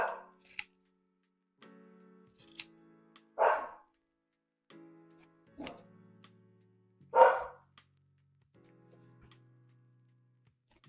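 A few short, sharp dog barks and yips ring out at scattered intervals, fairly quiet, with silent pauses and faint thumps between them.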